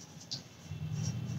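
A hand writes an example during a Hindi grammar lesson, making a brief series of faint, close scratching strokes against a soft room hum.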